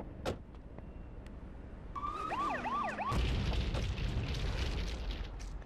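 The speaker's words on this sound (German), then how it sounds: "Wir hören die Sirenen, das heißt, lieber erstmal wegfahren." Police sirens wail briefly in the top-down video game GTA 2, a rising-and-falling electronic whoop mid-clip before a loud rumbling engine and noise take over.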